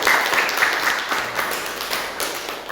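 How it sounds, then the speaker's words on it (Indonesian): A vocational high school class in Indonesia claps together in a classroom, producing steady, dense applause that stays fairly even for a few seconds before tapering slightly. "Oke, tepuk tangan untuk kita semua."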